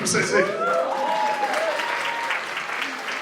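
A live comedy podcast audience in Montréal applauds in a sustained, dense wash of clapping and cheering, with a voice talking over it near the start.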